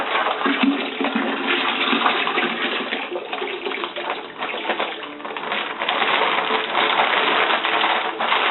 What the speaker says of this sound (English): we pour juice into the bag, rinse that out